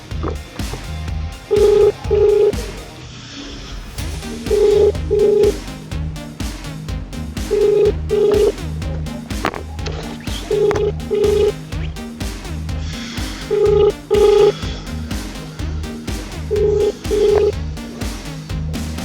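A mobile phone call rings out unanswered, a repeating tone pattern sounding in short paired bursts about every three seconds throughout, clear and steady with no talking.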